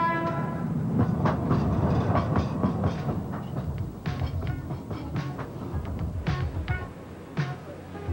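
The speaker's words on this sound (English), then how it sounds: "the train of the future that may lure Minnesotans back" A passenger train runs steadily along the rails, a continuous loud rumble with rhythmic clickety-clack from the wheels and sharper metallic clanks toward the end. It is heard up close with no voices.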